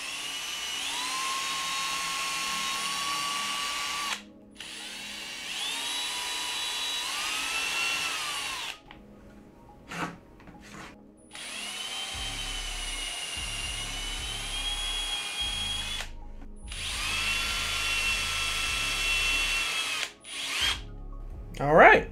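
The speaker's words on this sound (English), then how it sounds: "all we need is our trusty 1/8 drill bit and a surface to drill on. So I'm gonna enlarge these holes." A power drill fitted with a 1/8 inch bit enlarges LIDAR mounting holes on a Turtlebot3 Waffle Pi upgrade kit, sounding as several loud, steady whining bursts of a few seconds each, separated by short pauses.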